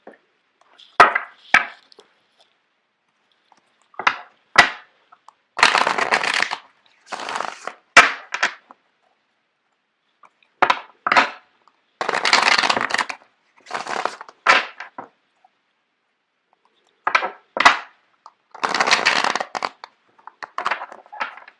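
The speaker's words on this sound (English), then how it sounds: "I'm going to shuffle out the cards for you guys." Tarot cards being shuffled in short bursts of crisp riffling and slapping, repeated in irregular clusters with pauses between, close and fairly loud.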